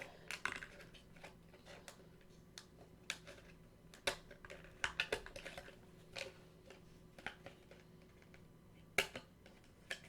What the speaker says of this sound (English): I'm glad I have these tiny scissors and not like the huge ones